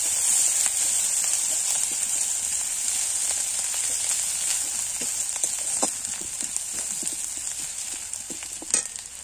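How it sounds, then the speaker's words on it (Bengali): Onion with black cumin and onion paste frying in a hot pan gives a steady, close sizzle throughout, with scattered small pops and the odd clink of a utensil, and no voices. "পেঁয়াজটা একটু ভাজা হবে।"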